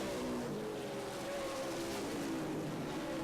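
Race cars lap the Angola Motorsport Speedway oval during a 50-lap tuneup, a continuous blend of engine drone that rises and falls steadily, heard from a moderate distance with no voices.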